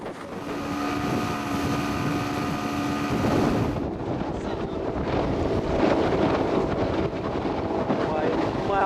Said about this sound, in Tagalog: Dahil sa laki ng mga alon, mas bumagal pa ang takbo ng Jungkon.